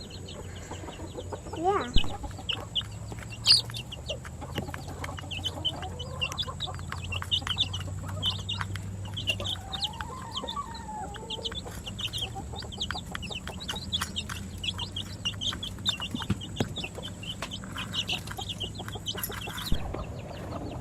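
Hens cluck around a roosting box, with soft, scattered clucks and chatter continuing throughout over a low background hum, and a brief word spoken once.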